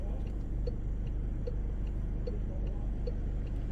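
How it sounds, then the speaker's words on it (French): A car's left turn indicator ticks in an even, regular rhythm of about one click every 0.8 seconds, clear over the low hum of the cabin and engine. "Clignote en gauche."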